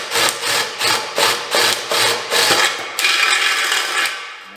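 Drill boring a half-inch hole through the thin tin of a two-stroke dirt bike exhaust, loud and close, with about eight rhythmic grinding bursts followed by a continuous rasping whir.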